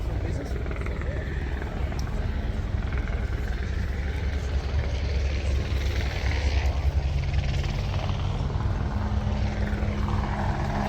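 Diesel engine of an industrial zero-turn mower at an agricultural show, running in a steady, loud, rumbling drone that holds unchanged throughout.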